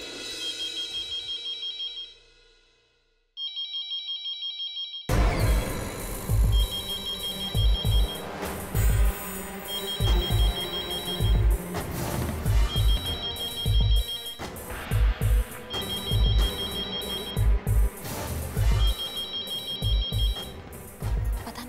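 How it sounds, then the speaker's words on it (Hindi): A telephone rings with a loud, close, musical ringtone that repeats its chiming pattern over a rhythmic beat after a brief opening chirp, with no voices. "किसका फोन होगा?"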